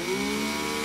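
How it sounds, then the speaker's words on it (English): Power drill spinning a model car tire against a sanding pad, a steady faint whirring hum with a grinding edge, lasting under a second with no talk. "Just turn the drill slowly."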